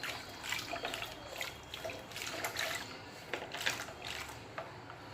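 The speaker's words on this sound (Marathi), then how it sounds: "थोडं थोडं करून याच्यात पाणी टाकून आधी एक ग्लास टाकते मी" Water trickles and splashes steadily into a bowl of curd with jowar flour in short irregular pours, close by, with no talking.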